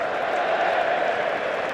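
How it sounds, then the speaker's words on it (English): A steady, broad roar of a stadium crowd cheering and applauding at an England versus India Test cricket match at Edgbaston, sustained and even throughout. "Cheer from the crowd as it trickles into the boundary"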